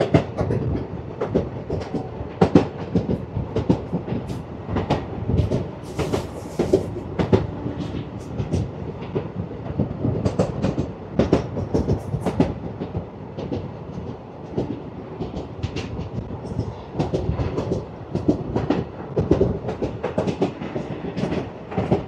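The Narasapur Express, train 17248 from Dharmavaram Junction, winds through a long run of curves with a steady, close rumble and rhythmic wheel clatter, continuous and without voices.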